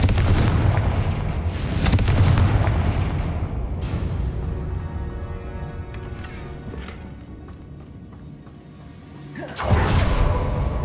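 Confringo explosive spell blasts in Hogwarts Legacy, a run of heavy booming bursts with whooshing impacts, a quieter rumbling lull, then one more loud blast near the end, with no talk.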